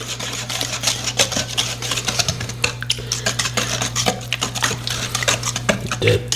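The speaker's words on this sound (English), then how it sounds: "So we'll whisk all that in there." A whisk beats egg yolks into chocolate chip cookie dough in a bowl, a fast irregular run of close clicks and taps against the bowl over a low hum.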